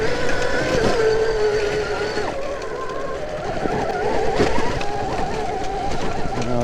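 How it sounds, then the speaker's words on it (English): A Velimotor VMX3000 electric enduro bike with a slipping clutch gives a steady, strained motor whine that wavers and shifts pitch as it labors, continuous and fairly close, with outdoor noise around it. "That sounded like the clutch was slipping there."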